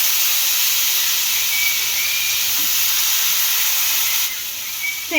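Dosa batter sizzles on a hot, oil-brushed pan, a steady close hiss that holds for several seconds before shifting in tone near the end.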